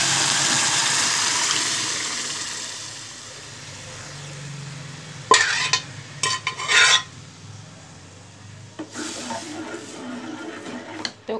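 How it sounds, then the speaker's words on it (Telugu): Dal is poured into hot tempering and stirred, bringing a faint sizzling hiss followed by several clattering bursts of a spoon against the pot, with quieter scraping afterward. "ఇప్పుడు ఈ పప్పుని ఇందులో వేసేస్తున్నాను."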